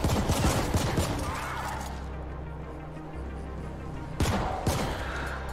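Bursts of rapid gunfire from the sci-fi shooter game The Ascent, loud volleys at the start and again near the end with a steady low rumble of game ambience between them.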